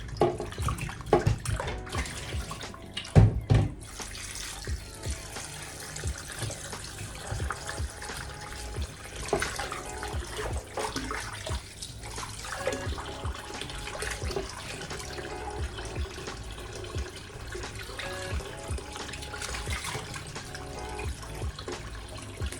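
Cold tap water runs continuously while raw chicken wings are washed for a Jamaican spicy wing recipe, a steady splashing stream broken by a few louder clunks and shifts as the pieces are handled under the flow.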